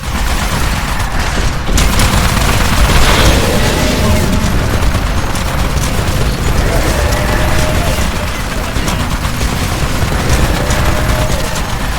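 Dense gunfire and explosions erupt around a collector in the video game Titanfall, a loud continuous clatter of rapid shots and booms with mechanical rattling, sustained across the whole stretch.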